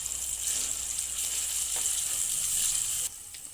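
Steady bright sizzle of home-style masala and turmeric being sautéed in hot oil with tomatoes, a continuous hiss that drops slightly near the end, with no talking.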